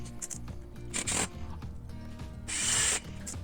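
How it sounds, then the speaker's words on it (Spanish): Self-tapping screws are driven into a plastic bracket for a motorised roller blind. Two loud whirring bursts from the driver are heard, separated by quieter clicks and handling noise. "atornillamos con tornillos de estos de autorroscante"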